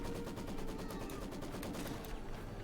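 Rapid machine gun bursts from an elite crew in Company of Heroes 2, a fast steady volley that stays loud and continuous with dense crackling reports throughout, no speech.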